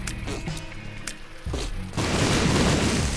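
Bombs blowing up in The Binding of Isaac, a series of booming game explosions that grow into a dense, sustained rumble of blasts by the end, with no voices over them.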